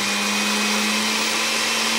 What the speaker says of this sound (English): Oh my God, I'm gonna ruin my blender.